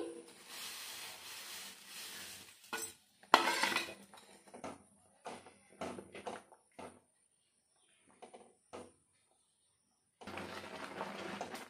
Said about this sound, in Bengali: আমি দুধ আর আমটা ভালো করে জাল করে নিয়েছি, এখন দিয়ে দেবো ভেজে রাখা সিমুই।